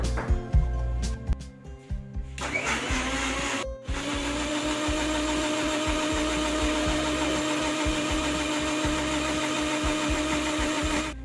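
Electric blender whirring steadily as it mixes cucumber, dates and sugar into a smoothie, with a short pause before the motor settles into a continuous, loud drone.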